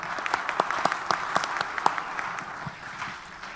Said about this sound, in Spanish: Un aplauso para Ale.